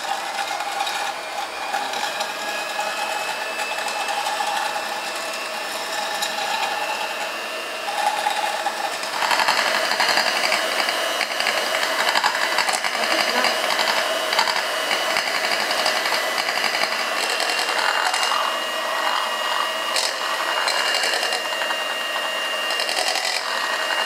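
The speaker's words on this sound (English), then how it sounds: "Then you'll be using your hand mixer." A hand mixer whips dalgona coffee with a steady high-pitched motor whine that runs continuously, growing slightly louder and busier partway through as the mixture thickens.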